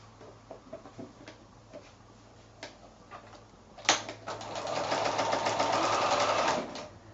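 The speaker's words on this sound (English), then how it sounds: "So I'm just going to sew that now with my 1/4 inch seam allowance." A sewing machine stitches a quilt sashing strip at a quarter-inch seam, first a few soft isolated taps, then a steady rapid run of needle clatter for about three seconds before stopping, close and quiet.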